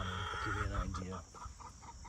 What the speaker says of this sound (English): Chickens are noisy today.